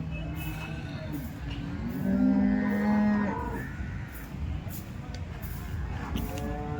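A dairy cow gives a long, loud moo near at a cattle market, with crowd and sale chatter murmuring underneath throughout.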